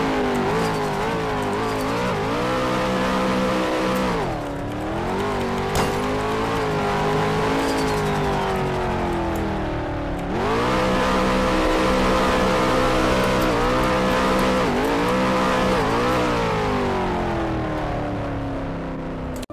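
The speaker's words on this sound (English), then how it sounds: "I'm going to try to make a burnout in this thing" Mercedes-AMG GT V8 engine in the Roblox game Taxi Boss, revving hard in sustained high-pitched surges that dip and climb again through a burnout attempt, loud and continuous without speech.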